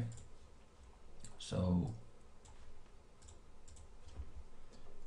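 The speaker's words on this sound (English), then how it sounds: "let's type here index and have the macro type the index right here in" Scattered clicks of typing on a computer keyboard while entering an index into an Excel macro, light and irregular, with a short spoken word partway through.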